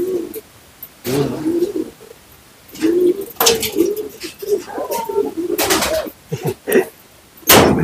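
Pigeons in a breeder loft coo repeatedly in soft, close, throaty bursts, with a few louder flutters and knocks breaking in between the calls.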